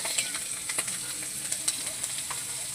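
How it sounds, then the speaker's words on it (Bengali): Panch phoron and green chillies spitting in hot oil as a tempering, a close, steady sizzle peppered with small popping crackles. "এই যে 5 ফোড়ন দিয়ে দিলাম, কাঁচা লঙ্কা ফোড়ন দিয়ে দিলাম।"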